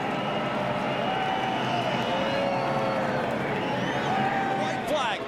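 Race crowd at a Chicago NASCAR event roars in a steady, dense wash throughout, with commentators talking over it.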